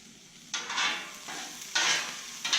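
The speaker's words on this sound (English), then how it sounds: "So go ahead and put the rest of my pastrami on here" Pastrami and sauerkraut sizzling on a Blackstone griddle, with a steady frying hiss broken by two loud bursts of sizzle as food is stirred or pressed, close and without talk.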